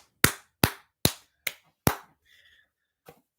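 Five sharp, evenly spaced hand claps close by, followed by a brief faint noise and one softer final clap, with no crowd cheering audible.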